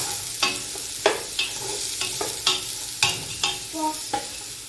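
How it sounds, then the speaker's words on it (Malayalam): Carrots and beans stirred in a hot pan for chicken fried rice, rhythmic spatula scrapes and clacks repeating about every half second over a continuous close sizzle. "എന്നിട്ട് ഇത് വാടുന്നോളം വരെ നല്ല രീതിയിൽ ഇളക്കി കൊടുക്കണം."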